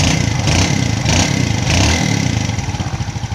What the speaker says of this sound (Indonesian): kita nih ini mesinnya langsung halus sekali ya, nggak ada bunyi-bunyi lagi